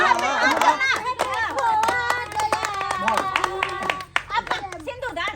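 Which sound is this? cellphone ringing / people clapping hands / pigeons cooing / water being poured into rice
people clapping hands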